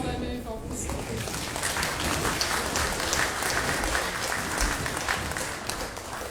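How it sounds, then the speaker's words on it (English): An audience claps for Delano State School students leaving the stage at an Australia Day awards and citizenship ceremony, a steady, moderately loud spread of applause with some murmuring voices underneath. "Can we clap them while they move off the stage?"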